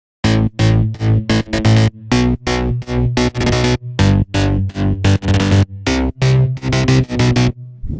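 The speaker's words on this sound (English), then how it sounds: "Here's how all the bass sounds sound like." Electronic bass sounds produced in FL Studio for a track, processed with OTT, stereo widening and a resonant filter; loud, punchy rhythmic stabs in a choppy pattern, alone with no voices.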